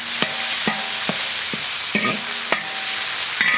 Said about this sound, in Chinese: 锅里加油炒料，2个辣椒一起下炒